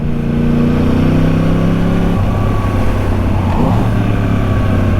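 A moped engine hums steadily and close by, its pitch shifting partway through as it rides past, with no voices.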